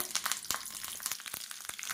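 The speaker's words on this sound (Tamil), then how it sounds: "நல்லா எண்ணெய் சுடாதுன்னு கடுகு, கருவேப்பிலை எல்லாம் போட்டு" Mustard seeds and curry leaves crackle and spit in hot oil, quick sharp pops scattered over a soft sizzle, fairly faint and close.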